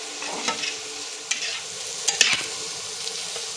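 A pan of atta flour toasting for a white sauce gives a steady, soft sizzle, with a spoon scraping and stirring in irregular strokes close by.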